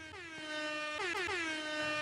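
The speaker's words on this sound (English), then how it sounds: "Give them a little air horn there because they have won 3 in a row" An air horn blares in a few long, loud bursts, its harmonic tone bending slightly between blasts, with no talking.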